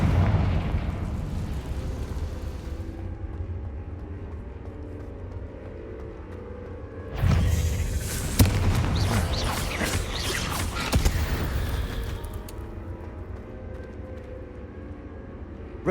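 A Confringo blasting spell bursts in Hogwarts Legacy, a broad roaring explosion that swells suddenly after a quieter stretch, carrying crackling debris for several seconds before fading back to a low ambient hum.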